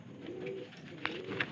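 Racing pigeons resting on a roof cooing softly and continuously, faint and close, with a couple of brief higher chirps near the end.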